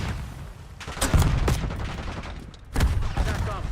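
Gunfire in a military shooter video game, several sharp bursts and single shots close by, spread across the moment with a louder cluster near the end, over a dense rumbling battle backdrop.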